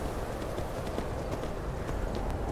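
Horse hooves clopping along in Skyrim, an even run of hoofbeats under a rumbling game ambience, heard at a moderate distance with no voices over it.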